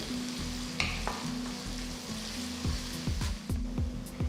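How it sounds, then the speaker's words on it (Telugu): Vegetables with crushed garlic fry in a pan, a steady broadband sizzle broken by several sharp scraping stir strokes near the end, with low clatter of a spatula against the pan and no talk. "వీటిని కనీసం ఐదు నిమిషాలు వేయించాలి"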